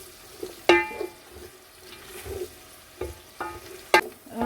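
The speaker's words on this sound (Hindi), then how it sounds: "प्याज हम तब तक स्टर फ्राई करेंगे जब तक ये गोल्डन हो जाए।" Onions are stir-fried in a pan toward golden, with a low sizzle broken by several sharp metallic scrapes and clinks of a spatula against the pan.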